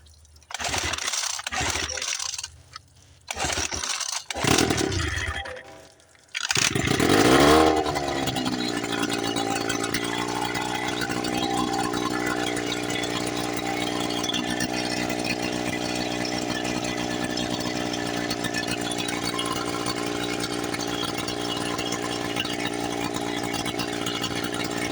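Old Johnson Seahorse outboard motor, a $50 garage find with the cover off, yanked with its pull starter several times in a rough burst, then catching and running at a loud, steady, buzzing idle to the end.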